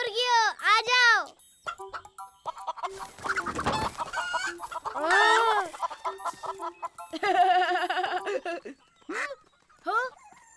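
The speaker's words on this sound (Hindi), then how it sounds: "हे मुर्गियों, आ जाओ।" Chickens cluck and squawk in bursts up close, with a voice and other chatter mixed in among the birds.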